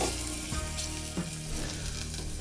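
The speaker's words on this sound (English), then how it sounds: "As you can hear, your mushrooms, you can hear it's sizzling" Mushrooms sautéing for laksa, giving off a dense, loud, steady sizzle and frying hiss throughout, with a couple of soft stirring knocks beneath it.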